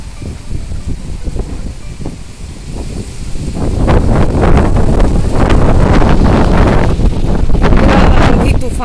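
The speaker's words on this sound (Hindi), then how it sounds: "खतरनाक हवा चलने लग गई है" Strong, gusty wind blowing hard outdoors as a storm approaches, roaring and buffeting the microphone, then growing louder and more constant after the first few seconds.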